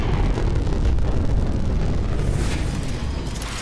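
Deep, continuous rumbling roar of a spacecraft engine burn in a video game, loud and steady with dense low-end energy throughout, easing slightly near the end, with no talk over it.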